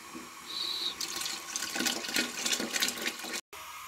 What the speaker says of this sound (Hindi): अब हम इसमें 5 किलो दूध शामिल करेंगे